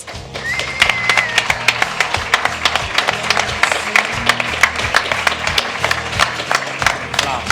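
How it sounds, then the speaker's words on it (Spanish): An audience applauds a special guest chef at a talk event, steady crowd clapping with sharp individual claps standing out, mixed with faint background murmur and a few low thumps. "un fuerte aplauso para nuestro invitado especial"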